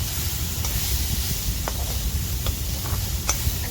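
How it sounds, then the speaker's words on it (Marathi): Leafy wild-vegetable bhaji made from chai flower buds sizzles and hisses steadily in a cooking pot while being stirred, with a few soft scraping clicks of the spoon against the pan; no voices. "आता भाजीला मी मिक्स करून घेते"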